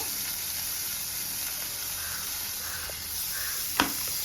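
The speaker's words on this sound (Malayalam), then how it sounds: "ഇനി നമുക്ക് ഈ എണ്ണയിലേക്ക് തന്നെ അധികം സമയം കളയാണ്ട് ഈ സാധനങ്ങൾ ഇടാം കേട്ടോ ഉള്ളി ഇട്ടിട്ടുണ്ട്" Onions drop into hot oil for prawn biryani and sizzle in a steady, fairly quiet hiss, with a brief sharp clink near the end.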